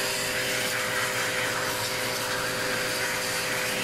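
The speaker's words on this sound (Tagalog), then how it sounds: "Yan ang lakas ng pressure washer" A pressure washer blasts disassembled washing machine parts during a home-service deep cleaning, producing a loud, steady, unbroken hiss and drone that runs the whole time with no talking.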